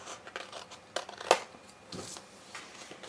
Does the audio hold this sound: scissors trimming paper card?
yes